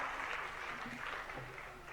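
Audience applause during a live religious discourse gathering, a brief steady wash of clapping at low level with faint voices mixed in.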